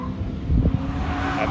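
A Ford Mustang's engine roars close by while tires squeal briefly in a short burst of drifting at a drift day on a race track.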